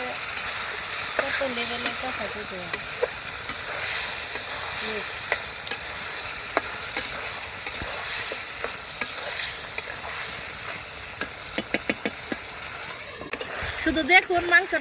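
Chicken pieces stir-fried in a pan, with a continuous broadband sizzle and repeated scraping and clinking of a spatula against the metal, growing busier near the end; a voice speaks faintly now and then.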